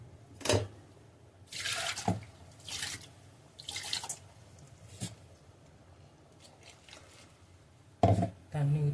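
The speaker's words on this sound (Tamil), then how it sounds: "தேவையான தண்ணி ஊற்றிக்கலாம்." Water is poured into a tamarind kuzhambu curry while cooking in a home kitchen, heard as soft splashing and dripping bursts, with scattered clinks and handling noises, close and fairly quiet.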